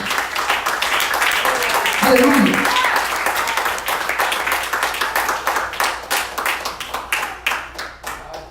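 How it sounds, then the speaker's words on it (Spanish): A church congregation claps for the Lord, many hands applauding loudly near the mics under a voice calling out, the clapping thinning into distinct individual claps toward the end. "Denle el aplauso, el Señor lo merece"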